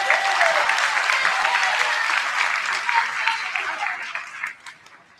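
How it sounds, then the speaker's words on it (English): An audience at an eighth grade promotion ceremony applauds steadily with dense, even clapping for about five seconds, then tapers off toward the end. "Let's give him another round of applause."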